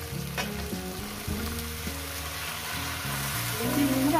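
Bet shak greens stir-fried with rohu fish head in a pan, a loud continuous sizzle with scraping stirring strokes close up, and a voice speaking faintly underneath.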